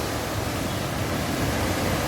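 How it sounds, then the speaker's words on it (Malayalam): A waterfall pours steadily, a dense, even rush of flowing water that fills the whole moment without pause, with no voices over it. "ഇതാണ് വെള്ളച്ചാട്ടം. ഈ വെള്ളച്ചാട്ടം കാണാനാണ് ഞങ്ങൾ വന്നത്."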